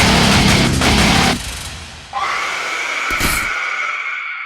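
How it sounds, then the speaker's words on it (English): A loud, piercing scream sample swells and then trails off into a long, washy reverb tail, followed by a booming hit and a ringing decay, in a Doom-style metal production. "it's going to be a scream sample"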